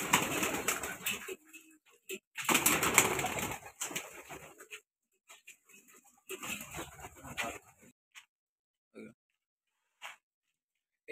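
A homing pigeon coos softly in short, intermittent phrases, with some rustling and faint movement around it. The coos are close but low in level, separated by quiet gaps.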